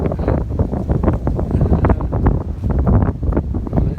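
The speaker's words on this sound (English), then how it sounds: "Fire's catching now. The wind's stirring." Wind gusting around an outdoor fire of burning trimmed pear and apple tree branches, a loud, steady roar of buffeting wind across the whole stretch, with no voices.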